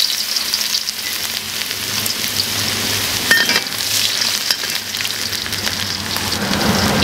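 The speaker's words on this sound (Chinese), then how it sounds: "开始炒，加入油，油温烧热，第一步下入姜蒜，" Ginger and garlic stir-frying in hot oil at the start of a seafood stir-fry, giving a dense, continuous loud sizzle with occasional crackles and scraping stirs, close and without speech.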